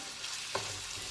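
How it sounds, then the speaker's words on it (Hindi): Chopped onion, garlic and minced beef frying in a pan give a faint, steady sizzle, with a brief stirring scrape partway through. "अनियन और गार्लिक डाल के कीमा को थोड़ा सा भून लिया।"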